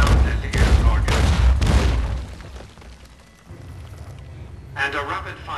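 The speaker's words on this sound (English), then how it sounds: "The M235 missile launcher gives the Securitron the ability to engage ground and air targets." A Securitron in the video game Fallout New Vegas fires its M235 missile launcher. Three heavy booming launches come in quick succession, then a quieter lull and another blast, with voices talking over them.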